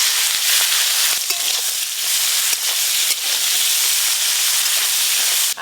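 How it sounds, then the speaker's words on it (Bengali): Crabs frying in mustard oil with turmeric and salt, a loud dense sizzle and hiss running steadily throughout, broken by a few sharp pops and crackles, close up. "প্রথমে আমি কাঁকড়াগুলো ভালো করে ভেজে নেব।"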